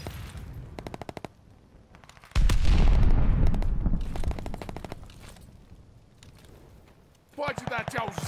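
Rapid automatic gunfire in Call of Duty: Vanguard, with tight bursts of shots, a loud heavy blast in the middle and more fast bursts near the end, with voices talking in between.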